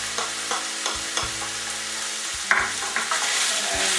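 Chunks of meat and diced small onion fry in a pan for Hungarian goulash, a steady close sizzle broken by repeated scraping stirs, with no voices.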